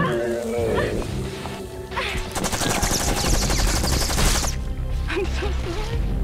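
Rapid bursts of video game gunfire, loud and sustained for several seconds, with a voice talking before and after the shooting.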